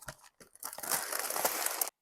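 Cereal is tipped into a pot of smooth melted marshmallows for a Halloween treat, making a brief, close crinkly rustle that builds into a steady pour for about a second, then stops.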